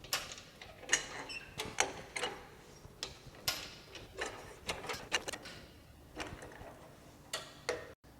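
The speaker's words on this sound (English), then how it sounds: "use the big lever with an up and down motion" Lever jack on a Toyota Land Cruiser camping vehicle pumped up and down, giving a series of sharp, close mechanical clicks and ratchet ticks in an uneven rhythm over a quiet background.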